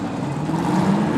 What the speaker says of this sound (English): Webb doing his burnout over on the George Mason side